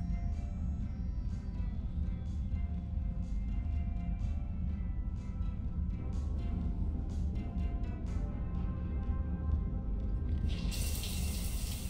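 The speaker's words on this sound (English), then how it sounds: "I figured you'd be more interested in a shower." A shower runs in the video game Mass Effect 3, a faint, steady hiss of falling water with a soft tonal background underneath that lasts the whole stretch.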